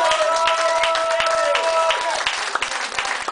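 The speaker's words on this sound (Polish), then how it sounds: "Wielkie brawa jeszcze raz dla nich." Wedding guests clap and cheer after a break dance show at a reception, a dense burst of applause over sustained music tones, with voices mixed in, thinning toward the end.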